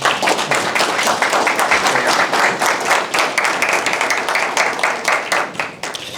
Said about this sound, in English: let's give a round of applause for Joscha Bach